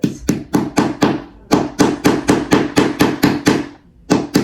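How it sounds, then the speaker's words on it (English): A hammer taps wooden shoe cabinet panel pieces into place in a steady series of about fifteen sharp, close knocks with a short pause midway, loud and alone. "we need a hammer to get them into place"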